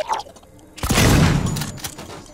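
A pump-action shotgun fires once as a single loud, sharp blast with a rumbling tail, during a fight in the video game Alien: Isolation.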